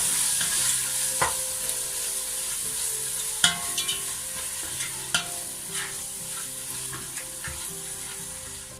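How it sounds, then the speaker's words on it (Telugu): A spoon stirs yogurt into a sizzling chicken biryani mixture in a hot pan, with continuous frying hiss and irregular scraping clinks of the spoon against the pan, close and without talk. "యోగర్ట్ వేసుకొని చక్కగా కలుపుకోవాలి"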